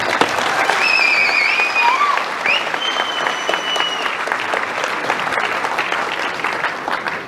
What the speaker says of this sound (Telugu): మీరు నిజంగా వీళ్ళలో చప్పట్లు కొట్టాల్సిందే వాళ్ళకి.